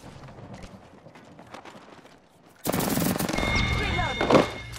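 Quiet, busy game ambience in the battle royale shooter Apex Legends abruptly gives way to loud, sustained automatic gunfire and a fusillade of shots that continue to the end, with a sharp burst near the close.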